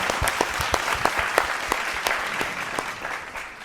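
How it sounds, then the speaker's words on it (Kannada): An audience claps in a brief round of applause, dense and steady at first, then thinning toward the end, heard fairly close. "ಕಂಬಾರರಿಗೆ ಒಂದು ಚಪ್ಪಾಳೆ ಬರಲೇಬೇಕು."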